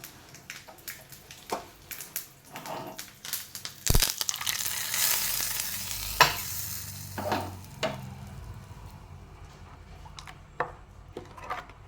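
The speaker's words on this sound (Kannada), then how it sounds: "ಈಗ ಇದಕ್ಕೊಂದು ಒಗ್ಗರಣೆ ಕೊಡುವ" Spices for tempering sizzling in hot oil for a ginger tambuli, with a crackling burst of frying, scrapes and knocks of a spoon in the pan, close by, no talking.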